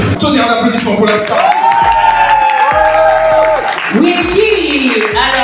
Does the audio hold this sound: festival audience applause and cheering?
yes